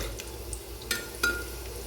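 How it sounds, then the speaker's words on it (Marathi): Onion and cashew pieces frying in a pan for a carrot and pea pulao, giving a steady soft sizzle with a couple of sharp stirring clinks. "यात मी घालून घेणार आहे काजूचे काप. ते सुद्धा मी असं 1 मिनिट चांगले परतून घेणार आहे."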